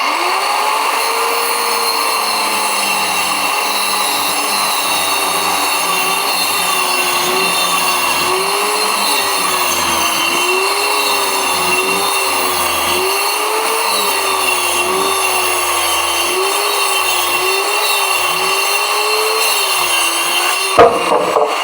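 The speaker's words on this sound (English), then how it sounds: "Use your undercut saw." An undercut saw rips through plywood with a loud, continuous motor whine and cutting roar that wavers slightly in pitch as it bites, ending with a brief clatter.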